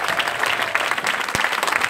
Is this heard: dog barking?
no